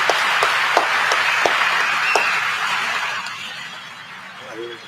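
Audience clapping during a televised political address in a large hall, a broad sustained wash with a few sharper individual claps, gradually tapering off, with a brief voice near the end.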